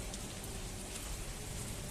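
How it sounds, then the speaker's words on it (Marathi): Light rain falls outdoors as a steady, even hiss after a heavy unseasonal shower, with no voices. "पाऊस थोडाफार कमी झाला मित्रांनो"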